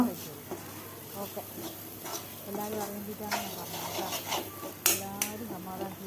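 Chapati upma with coriander leaves being stirred in a pan, a soft sizzle under scraping and clinks of a spoon against metal, with some faint voice in the background.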